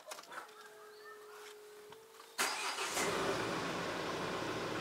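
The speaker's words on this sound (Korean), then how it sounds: "부부가 트럭에 올라타고 시동을 건다" A pickup truck engine cranks and catches in a quiet rural mountain setting at dawn, a short starter whirr giving way to a steady loud idle, with faint birdsong beforehand.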